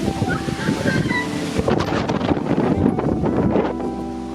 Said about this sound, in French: légèrement du vent, légèrement.